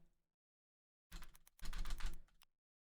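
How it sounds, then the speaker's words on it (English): Quick bursts of typing on a computer keyboard, a short cluster of clicks followed by a denser run of keystrokes, close and fairly quiet, with silence before and after. "Oh, you guys can hear me typing."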